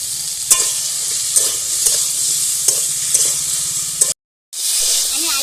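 Potatoes frying with salt in a pan, a loud continuous sizzle broken by regular scraping stirs about every second, with a brief cut to silence near the end before the sizzling resumes.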